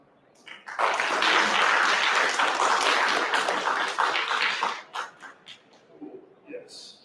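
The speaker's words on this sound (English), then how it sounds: "please give yourself a round of applause" Applause from an audience at a comics business event swells quickly into loud, full clapping for about four seconds, then breaks into a few scattered claps as voices take over.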